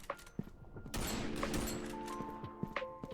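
Gunfire from weapons in the video game Frontline Inferno, a loud sustained burst of rapid shots with booming impacts, preceded by a couple of sharp single reports and followed by faint tonal game sounds.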